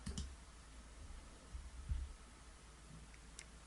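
A computer mouse clicks a few times while a WordPress plugin is installed, sparse quiet clicks spaced over a few seconds against faint room hiss.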